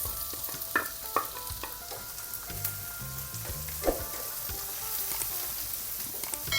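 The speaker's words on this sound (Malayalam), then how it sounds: "ഇതിനകത്ത് ഒരു ഇടത്തര ഒരു സവാള അരിഞ്ഞത് ഇട്ട് കൊടുക്കാം." Chopped onion and grated garlic frying for fried rice, a steady close sizzle with scraping stirs and a few louder clatters, no voices.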